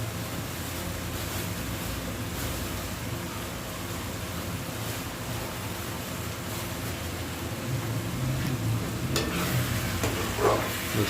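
Spices with turmeric frying in a pan for fish curry, heard as a steady, even hiss of frying with faint stirring movements and a few soft clinks toward the end.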